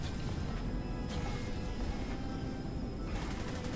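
Spaceship weapons and rockets firing in the space combat game Beyond Astra, a dense continuous barrage of rapid blasts with bright bursts near the start and end, loud and unbroken throughout.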